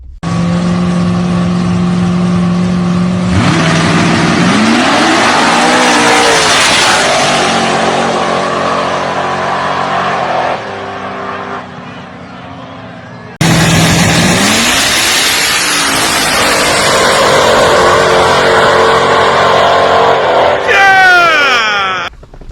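Drag race between a procharged Chevrolet Monte Carlo and an Oldsmobile Cutlass: loud engines rev and accelerate hard with rising pitch, in two runs separated by a brief drop, and faint crowd noise in the background.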